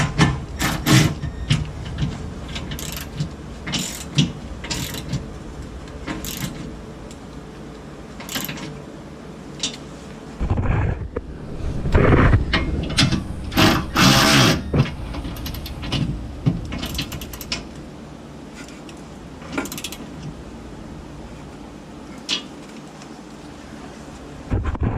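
Ratchet wrench torquing 13 mm bolts on a Chief Products transmission skid plate under a WK2 Jeep, with repeated close clicking bursts and metallic knocks of varying loudness, heavier clatter in the middle.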